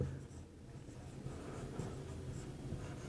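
Chalk or marker scratches steadily across a classroom board as an equation is written out, a close, continuous scraping with small taps and strokes and no talking.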